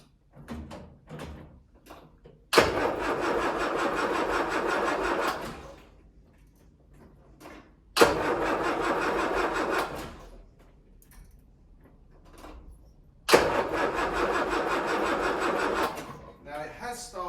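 A Land Rover Series 3 engine cranks without catching, in three separate bursts of rapid, loud, churning starter turnover of about three seconds each, split by quiet gaps with a few small clunks and a voice talking.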